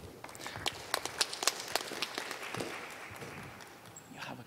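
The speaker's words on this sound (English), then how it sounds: "A round of applause for Rose as well." Scattered audience applause at a scientific conference pop-up talk, sparse irregular claps, fairly quiet and a little distant, tapering off over a few seconds.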